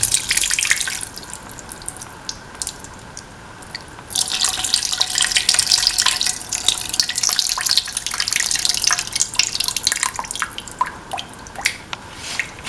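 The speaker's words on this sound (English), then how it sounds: "Now pour in 200 ml of tamarind water." Tamarind water pours and splashes into a pan, a bright hissing stream that grows stronger partway through and keeps going.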